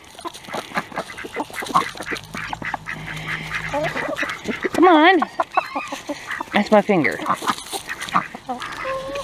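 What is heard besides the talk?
ducks quacking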